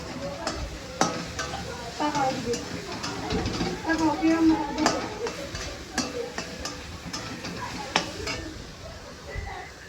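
Meat curry being stir-fried and browned in a pan, with a soft sizzle under repeated scraping and clinks of a spoon against the pan, close by, while someone talks over it.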